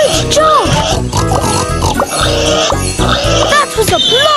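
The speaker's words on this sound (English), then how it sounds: "Some pigs have wandered off from the farm." Cartoon pigs oink and grunt repeatedly in a children's Magic Tracks railway game, loud and busy over bright game music and sound effects, with a voice talking at points.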